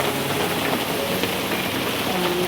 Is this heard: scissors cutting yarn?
no